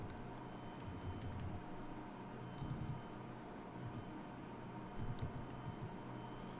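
Quiet keystrokes on a computer keyboard come in a few short bursts of rapid clicking against a low background hiss, with no one speaking.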